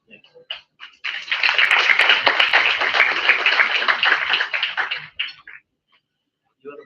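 A seminar audience in a hall breaks into applause lasting about four seconds, a dense, fairly loud wash of many hands, with brief speech just before and after.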